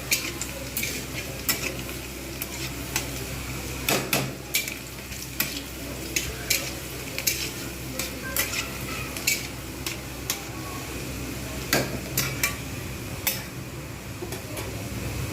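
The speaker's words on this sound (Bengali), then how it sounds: "রসুনটাকে আমাকে ভালোভাবে ভেজে নিতে হবে।" Chopped garlic fries in a pan with a continuous sizzle. A spatula scrapes and clinks against the metal in frequent sharp ticks throughout, close and steady.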